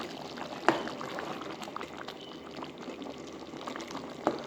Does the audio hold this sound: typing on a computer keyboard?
no